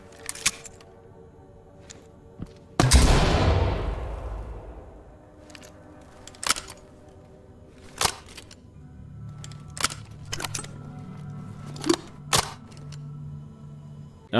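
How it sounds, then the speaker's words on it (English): A flashbang grenade launcher fires in Ready Or Not, followed by a sharp loud blast that decays into a long ringing hiss. Crisp, quieter clicks and mechanical snaps come after it at irregular intervals. "That flashbang seemed to go off more on impact than the previous one."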